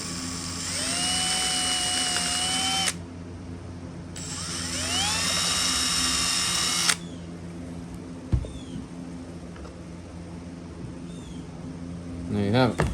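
A high, whining power drill with a long drill bit runs in two long bursts, pitch sliding up as it spins, then stops; faint clunks and handling noises follow, close by.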